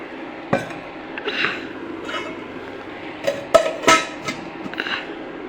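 Milk and cream being stirred into a potato and pea curry in a pot, with scattered spoon clinks and scrapes against the metal, a few sharper knocks, and soft liquid sloshing at close range.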